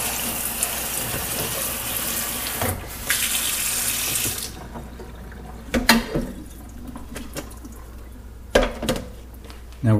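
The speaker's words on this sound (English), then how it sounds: "hopefully a lot of fat that was in this meat is now going down my kitchen sink drain right now" Cold water runs from a kitchen tap into the sink and down the drain after rinsing pork, a steady close hiss broken by a few clanks and knocks of dishes.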